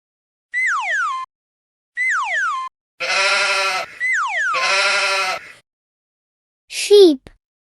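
Sheep bleat loudly and close by, with several drawn-out wavering calls in a row separated by short pauses, followed by a brief higher cry.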